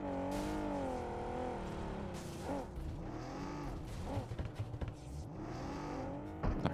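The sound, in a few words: struggling car engine in a PUBG Mobile video game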